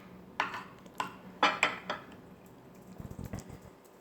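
Scalloped sweet potatoes being dished up with a metal spoon from a baking dish: several sharp clinks and scrapes of utensil on dish, then a soft cluster of wet, squishy taps.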